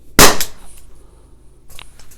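An air rifle, an HDP 50, fires indoors through a Caldwell chronograph: one sharp, loud crack near the start, then a quieter click or clatter about a second and a half later.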